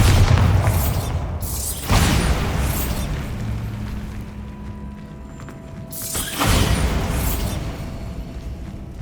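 A Bombarda blasting spell goes off in the video game Hogwarts Legacy, giving a loud booming burst with a rushing whoosh, followed by a second heavy blast a few seconds later amid game ambience.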